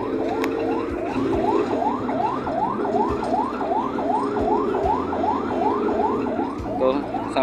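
A loud wailing ambulance siren sweeping up and down in a rapid repeating cycle, heard from inside the ambulance over a low engine rumble.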